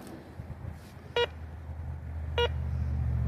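A metal detector gives two short tonal beeps about a second apart over a low, quiet outdoor background rumble.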